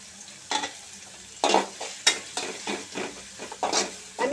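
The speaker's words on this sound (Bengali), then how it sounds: "আমি অল্প আছে সবগুলো পেঁয়াজ এবং মরিচ একটু ভেজে নেব।" Onions and chillies frying lightly in a pan, a quiet background sizzle broken by repeated clattering stirs and scrapes of a utensil, close and without talk.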